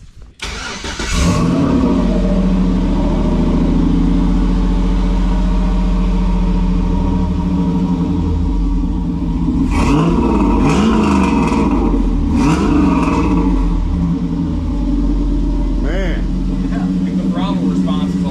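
A 47-year-old Pontiac Trans Am engine cranks to life, then idles loud and close with a steady rumble and sharp throttle blips mid-clip, while people talk over it.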